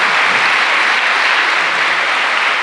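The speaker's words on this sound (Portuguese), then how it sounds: "Uma salva de palmas para esse" Audience applause in a parish church during a jubilee Mass homily marking the parish's fiftieth anniversary, a loud, dense and steady clapping that fills the whole stretch without a break.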